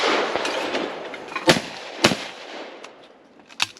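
Sharp .410 gauge shotgun shots ring out at sporting clay targets on a going-away pair stand, several cracks spaced over a few seconds against steady outdoor background noise.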